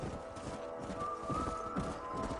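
Several horses gallop in a herd in the video game Red Dead Redemption, a close, rhythmic clatter of hooves running under a steady outdoor rumble.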